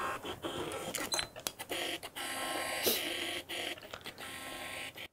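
Autofocus motor of a Sony 50mm f1.8 lens on a Sony A7IV camera held up close to a microphone, giving a run of buzzy, chattering mechanical whirs and clicks that stop and start in uneven bursts.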